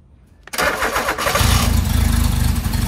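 Engine of a Genie GS-3268RT scissor lift starting on the first try with a freshly fitted carburetor: a cranking rattle, then catching and settling into a steady, close, thumping idle.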